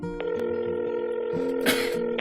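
A steady telephone tone plays while short beeps of dialing pop in and out, followed by a brief burst of noise near the end.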